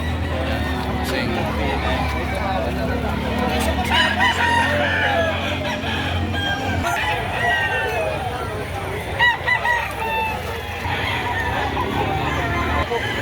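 Roosters crow repeatedly among clucking chickens at a livestock auction where the birds are for sale, several calls overlapping amid busy background chatter and crowd noise.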